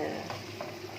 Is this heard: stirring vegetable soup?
yes